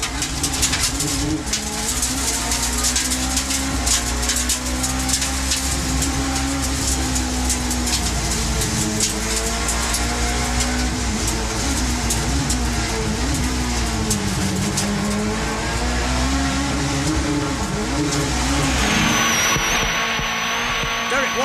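Several 1990s touring race cars, Hondas and an Alfa Romeo among them, roar around a circuit in a continuous loud engine drone with shifting pitch, and a crowd or commentary bed sits beneath throughout.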